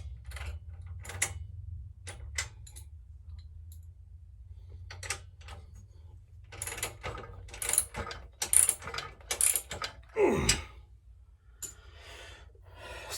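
Ratchet tightening a bolt on a West Coast chopper motorcycle project; short ratchet bursts, sparse at first, then rapid loud clicking runs later, close by over a low steady hum.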